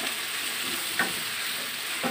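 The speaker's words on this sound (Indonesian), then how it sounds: "Kita tumis dulu biar agak layu ya." Pineapple, tomato, bell pepper and scallion stalks stir-frying in a pan for sweet and sour fried fish, a steady hiss of sizzling with two brief spatula scrapes, close and alone.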